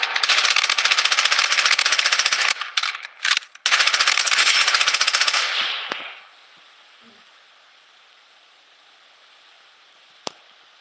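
Sustained automatic gunfire in the battle royale game Blood Strike, loud dense bursts for about six seconds with brief gaps, then near silence broken by one sharp distant shot.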